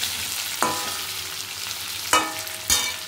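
Ingredients frying in hot oil in a pan for kadai chicken, with a soft sizzle in the background and three sharp scraping clatters of a spoon stirring at irregular intervals, close and without talk.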